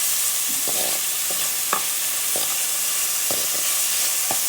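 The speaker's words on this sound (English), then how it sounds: "Just keep stirring. We don't want it to dry." Leaves being stirred in a frying pan, a steady hiss of frying with regular spatula scrapes about every second, close and moderately loud, with no talk.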